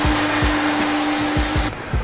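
A Clean Core Caddy vacuums a restroom floor, a steady loud whining motor drone with rhythmic low thumps as the wand passes, then a brief drop in tone near the end.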